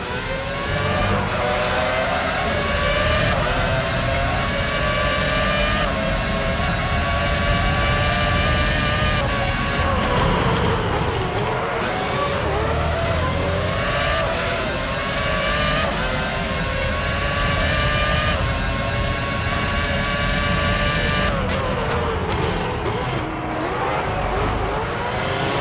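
Formula 1 race car engines in the PS2 game F1 06 at the Canada circuit scream continuously at high revs, loud and close, with the pitch repeatedly climbing through gears and dipping at braking points.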